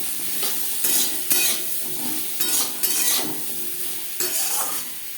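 Papaya pieces with salt and turmeric frying in a pan, a steady soft sizzle broken by repeated scraping stirs of a spoon against the pan at an uneven rhythm, close up with no talking.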